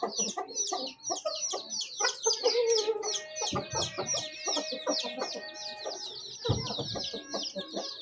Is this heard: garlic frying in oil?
no